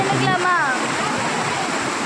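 A herbal-water mountain waterfall at Thirumoorthy, with people bathing beneath it. Steady, loud rushing and splashing fills the whole clip, and a voice is heard briefly over the water at the start.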